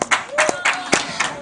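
Studio audience at a live-streamed TV game show claps in short bursts, a scatter of hand claps with a voice speaking through it.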